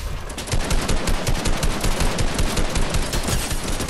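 Rapid automatic gunfire in the video game Fortnite, loud and continuous bursts of shots rattling close by for the full few seconds with no talk over them.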